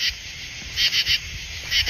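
Frogs and crickets calling outdoors at night in a small American town, a constant insect trill with repeated louder chirping bursts in short groups, fairly close and alone with no talk.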